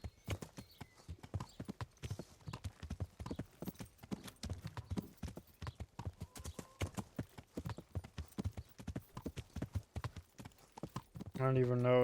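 Steady clip-clop of horse hooves in the video game Kingdom Come: Deliverance runs throughout, with a louder, denser burst near the end; a voice talks over it.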